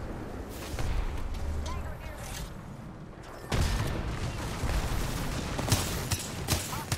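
Wingman pistol shots ring out during a women's competitive Apex Legends match, sharp bursts landing amid constant game noise and a commentator's steady talk.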